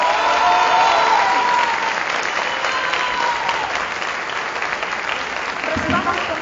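A large audience applauds steadily for a finalist at a national debate contest stage, dense continuous clapping throughout, loud and close, with a brief low thump near the end.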